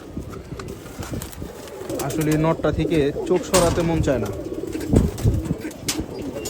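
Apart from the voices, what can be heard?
pigeons cooing at a pigeon farm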